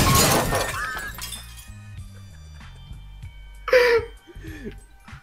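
A car crash in a Roblox-style roleplay game sounds as a sharp burst of shattering glass and impact at the start, then an engine drone with further clinking breaks and brief voices.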